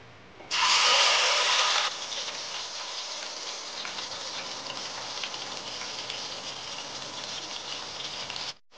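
Onion paste dropped into hot oil for Nellore fish curry gives a sudden loud hiss that settles into a steady, crackling sizzle, close and continuous for several seconds, then it stops abruptly.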